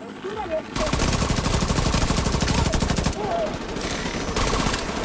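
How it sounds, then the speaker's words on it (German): Rapid automatic gunfire from The Division 2 fills most of the stretch with dense, fast bursts that pause and then pick up again more sparsely, while a voice talks over the game sound. "Okay, da wird geschossen."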